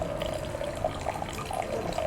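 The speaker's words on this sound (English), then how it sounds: "she ladles in water and briskly whisks the tea" Water is ladled into a matcha bowl during a Japanese tea ceremony in a Kyoto hotel, a soft steady pour and trickle lasting about two seconds, close and fairly quiet, with no talking.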